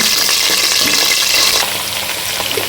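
Cut vegetables, including onions, green chillies and okra, sizzle loudly in hot oil with a mustard and cumin tempering. The dense crackle holds steady throughout, with stirring noises mixed in and a slight drop in level partway through.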